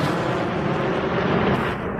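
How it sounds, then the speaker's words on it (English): BM-21 rocket launcher crews of a marine brigade firing rockets: a continuous dense roar of launch blast, loud and sustained throughout with no pauses and no talk. "the crews of the BM-21 of the 38th Marine Brigade are firing, says Silva"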